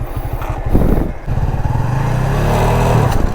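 A stunt motorcycle engine revs hard on the throttle, then surges and holds a steady drone as the clutch is let out, loud and close.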